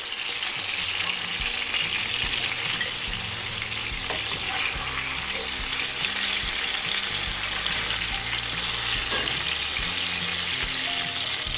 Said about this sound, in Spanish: ya tenemos aquí todo esto frito, entonces vamos a sacarlo de aquí del sartén